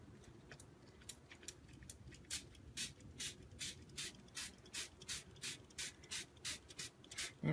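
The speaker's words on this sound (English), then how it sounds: "you watch the magic of what happens when I spray this with some water" Water is sprayed from a trigger bottle onto paper painted with Brusho colour over embossed petals, about a dozen short quick bursts in a steady rhythm, close and distinct over quiet background.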